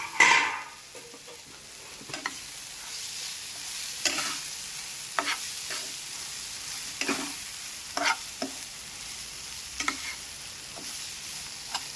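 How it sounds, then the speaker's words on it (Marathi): Roasted vermicelli is sautéed with an onion and tomato mixture for vermicelli upma, giving a low steady sizzle broken by regular scraping stirs of a spatula in the pan, close and without talk. "छान परतून घ्यायची आपण ती कांदा, टोमॅटो जे आपण टाकलेले मिश्रण त्यामध्ये."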